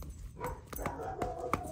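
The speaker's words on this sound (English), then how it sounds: "Oh, there goes the dog." A dog barks indoors several times in quick succession, a few short yaps at a moderate distance over faint background noise.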